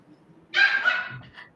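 A small female dog barks in one short, close burst of yaps lasting about a second, heard on its own with no talking.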